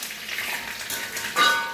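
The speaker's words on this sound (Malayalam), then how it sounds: "ഇനി അതിലേക്ക് കുറച്ച് കറിവേപ്പില നമുക്ക് മൂപ്പിച്ച് അതിലേക്ക് വെക്കാം" Curry leaves frying in hot oil, a continuous close crackling sizzle that swells into a brief louder burst of spitting near the end.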